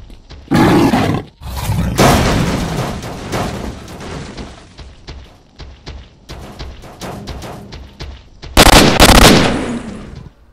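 Shooter combat in S.T.A.L.K.E.R.: Shadow of Chornobyl, with loud bursts of rapid gunfire and harsh, snarling creature roars that break out in thick, noisy blasts between quieter stretches.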